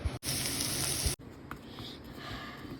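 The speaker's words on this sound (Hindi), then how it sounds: "अब बस इसको तड़का मारने वाली हूँ मैं मिर्च और जीरा से" Chillies and cumin seeds hit hot oil for a tadka with a loud, bright sizzle that crackles for a moment, then settles into a quieter, steady fizzing.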